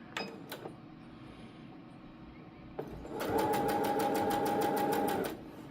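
A sewing machine stitches around a fabric scrunchie: after a few soft handling clicks, a steady whirring run with rapid, regular mechanical clicking lasts about two seconds, close and fairly loud.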